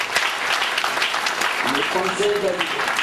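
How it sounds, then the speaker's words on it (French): An association's audience applauds its board of directors, brief continuous clapping with a voice talking over it near the end. "Et nous pouvons applaudir."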